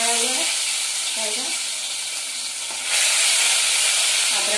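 Ginger, garlic and green chili paste fries in hot oil in a pan, giving a steady loud sizzle and hiss throughout, with a few soft stirring scrapes near the start and a brief surge in intensity near the end.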